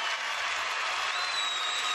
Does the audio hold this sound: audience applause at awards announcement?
yes